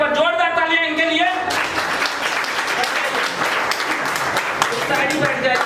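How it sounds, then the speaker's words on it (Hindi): Audience applause at a developers' leaders meeting breaks out after a speaker finishes, dense and steady clapping filling the room for several seconds, with the speaker's voice audible before it begins. "पर जोरदार तालियां इनके लिए।"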